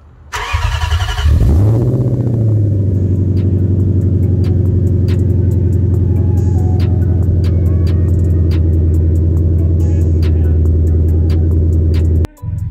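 An Infiniti Q45 V8 fitted with Nissan Titan headers cranks, catches and settles into a loud, steady idle close by, with a brief cutout near the end.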